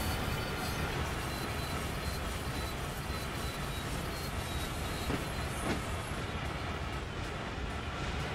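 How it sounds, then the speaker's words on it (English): A fully loaded 52-wagon coal train hauled by two relatively low-power locomotives on Sand Patch Grade in Train Sim World 4, giving a steady, loud, dense rumble of engines and rolling wagons that continues without a break. "got fully loaded coal train"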